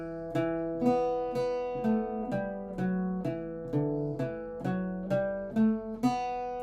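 An Irish bouzouki plays the lively melody of "God Rest Ye Merry Gentlemen" over open drone strings, each note struck crisply in a steady rhythm, close and clear.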